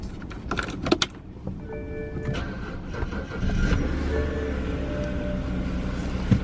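A 2009 BMW 328i is started after sitting: quiet clicks and rustling first, then the engine catches and settles into a steady, close, low idle that holds to the end.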